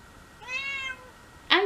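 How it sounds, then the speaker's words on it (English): A pet cat lets out one clear, drawn-out meow close by, then a sharp, brief second cry begins right at the end over a quiet indoor background. "Cat, stop."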